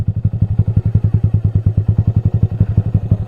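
A motorcycle engine chugs at low revs in a steady, evenly spaced thumping rhythm as the clutch is eased into the friction zone without throttle, loud and close.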